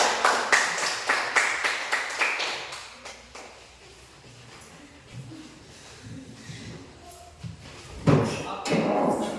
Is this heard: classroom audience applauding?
yes